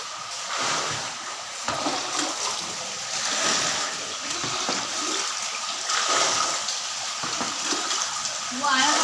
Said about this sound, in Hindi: बाहर से बहुत आ रही पानी, गेट में से बहुत आ रहा पानी।